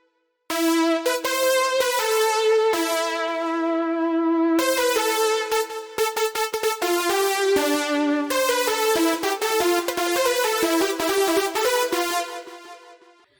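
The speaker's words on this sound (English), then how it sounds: "we're going to be making a trumpet sort of lead" A bright, brassy trumpet-style lead made in the Spire synthesizer plays a melodic phrase of sustained and quick notes, loud and alone, with no voices.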